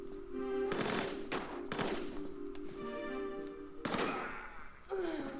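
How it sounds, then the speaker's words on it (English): Gunfire in Tomb Raider III: bursts of rapid shots and single loud cracks hit in quick succession over a steady game background tone, with no voices. "So now I'm gonna go guns a-blazing to see if we fight a guy"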